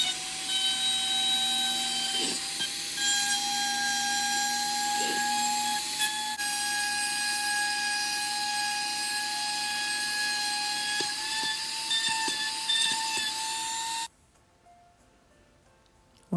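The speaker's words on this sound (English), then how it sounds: "And then I take my Dremel and I go ahead and I slice into that portion so that I have a little entrance way for my church." A Dremel rotary tool slicing into wood to cut an entrance in a small craft church, whining steadily and loudly at high speed for about fourteen seconds before cutting off abruptly.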